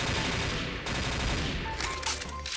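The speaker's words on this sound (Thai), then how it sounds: "ลองยิงแบบชุดหนึ่งใส่คนนะ" Automatic weapon fire from a shooter game, a dense burst of rapid shots running nearly unbroken and loud at close range, with game effects layered over it.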